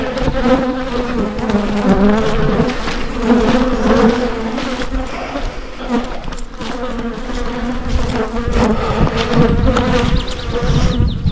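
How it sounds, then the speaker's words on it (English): Dense, steady buzzing of many bees swarming close around a beekeeper, continuous and loud for the whole stretch with no talking. "I still have bees just all over me."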